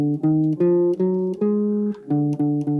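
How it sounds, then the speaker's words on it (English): A Lydian dominant scale, Mixolydian with a raised fourth, played as a clear run of about eight separate pitched notes in even rhythm, near and alone. "the Lydian dominant, which is a Mixolydian with a raised fourth, would sound like this."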